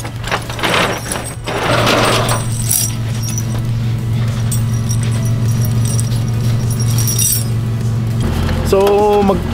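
Snow chains are fitted onto a small vehicle tyre on a slippery road, with metallic clinks and jangles over a steady engine hum and some brief talk nearby.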